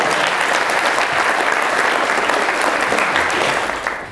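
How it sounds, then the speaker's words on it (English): Sustained, dense audience clapping at a university law society event in Ireland, loud and steady throughout, tapering slightly at the end with no talk over it. "You can clap if you want."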